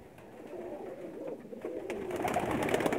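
Pigeons coo softly in a rooftop loft in Khambi village, Sarai Alamgir, Pakistan. The low, faint, rolling calls repeat over light background noise that grows slightly louder toward the end.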